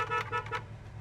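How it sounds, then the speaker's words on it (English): Short car horn bursts from a 1970 Chevrolet Chevelle SS, about three quick toots inside the car, close and fairly loud. "inside our 1970 Chevelle, horn,"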